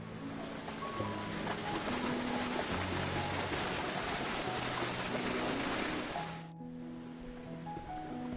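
Steady rushing water flows continuously, a broad hiss of a valley stream close by beneath a wooden boardwalk in a pine forest, with a brief dip near the end before the flow resumes.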